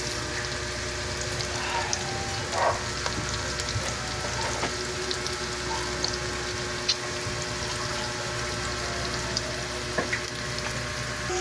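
Sliced onions sautéing in a pan give a constant soft crackling fry, like light rain, that holds steady throughout with faint occasional clicks.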